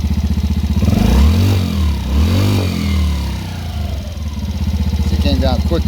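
A 2016 Yamaha Raptor 90 ATV engine idles after carburetor cleaning and adjustment, a steady close putter that swells and dips in speed twice before settling, loud and continuous.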